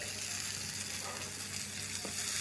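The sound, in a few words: fish frying in pan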